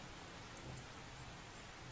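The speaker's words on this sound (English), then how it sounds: "oh fuck the rain loop" Steady rain loop from the video game Seduce Me, a soft continuous hiss of rainfall playing alone at low volume with no voices over it.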